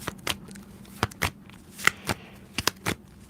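Tarot cards are shuffled close by in quick, crisp riffles and taps, irregular bursts against a quiet background with no talking.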